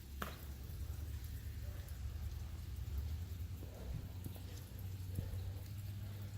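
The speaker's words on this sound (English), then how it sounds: "it's a little rainy and misty today" Light rain falls outside a house with cedar shake siding, a soft steady hiss over a low rumbling background, with faint bumps and ticks scattered through.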